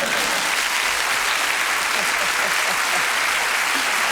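A studio audience at a 1986 television dating show breaks into loud, dense applause that fills the whole stretch at a steady level, with no pause or fade.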